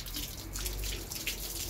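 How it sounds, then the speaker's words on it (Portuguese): Water poured from a small cup during a bath splashes and trickles steadily and close, with a continuous running, dripping wash and no talking. "Agora eu vou jogando as canequinhas de água no meu mar."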